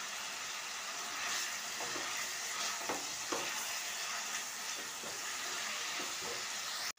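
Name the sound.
frying chicken keema with ginger and garlic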